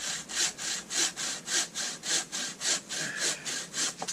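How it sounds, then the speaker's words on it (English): A 24-inch Tiger hand saw cuts firewood in close, even back-and-forth strokes, about eight rasping pulls in quick rhythm, each one loud and scratchy. "It's a Tiger saw, 24 inch."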